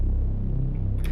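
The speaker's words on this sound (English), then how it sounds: "And the sub bass," A deep sub bass built from a detuned pad with added upper harmonics rumbles in a sustained, loud low drone, with a short bright flicker near the end and no voices.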